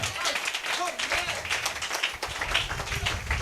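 A church congregation claps and cheers during a sermon, a thick, continuous roar of many hands with voices calling out over it, fairly close and loud throughout.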